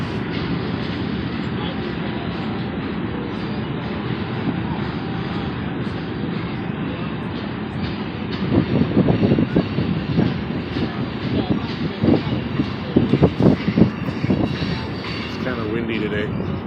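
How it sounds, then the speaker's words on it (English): A freight train rumbles past in Washington, D.C., heard from a rooftop a few blocks from the Capitol, a steady low heavy roar with clanking wheel bursts and wind buffeting. "I'm catching at least the back part of the freight train"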